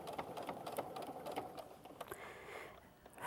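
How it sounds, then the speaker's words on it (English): Sewing machine stitching a quarter-inch seam on a fabric casserole holder, a steady close mechanical whir with rapid ticking needle strokes running throughout, rising slightly at the end. "we're going to sew a 1/4 inch seam allowance"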